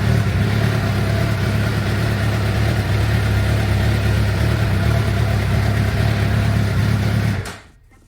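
A 2006 Suzuki GSX-R 750 motorcycle engine idles steadily and loudly up close with a low hum, then is switched off and dies away abruptly near the end.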